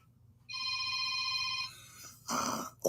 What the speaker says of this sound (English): The reason that was ringing, it was another telephone.